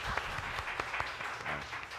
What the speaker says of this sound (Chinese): 我们鼓掌来欢迎他哈